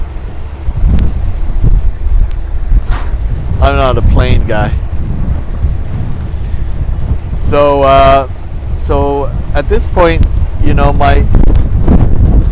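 Gusty wind buffets the microphone on a boat heading to port after a cruise of Ha Long Bay, Vietnam. The wind comes as a continuous low rumble with surging gusts, under someone talking.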